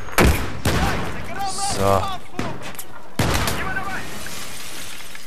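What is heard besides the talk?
gunfire in the video game Battlefield 3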